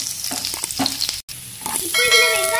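Garlic sizzling and frying in hot oil in a pan while being stirred, a steady crackling hiss broken by a brief gap, then a louder bright sizzle with scraping.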